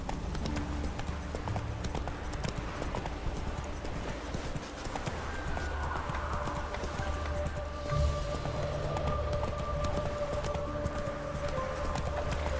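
Roach the horse galloping in The Witcher 3, a fast steady clip-clop of hooves over a dense ambient game soundscape with wind and music beds.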